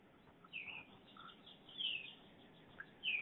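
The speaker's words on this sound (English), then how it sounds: "the birds are singing here" Birds sing outdoors on a sunny day, with a few faint, high chirps and short calls spaced over a quiet background.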